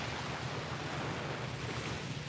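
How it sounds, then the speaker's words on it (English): Ocean waves on a shore make a continuous, moderately faint wash of surf noise with a low rumble and no voices. "the sounds of the waves is just amazing"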